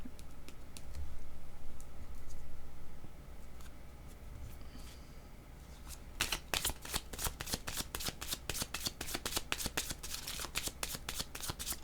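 A deck of heart oracle cards is shuffled close by in a quiet room, with rapid crisp riffling clicks packed into the second half after a stretch of near silence.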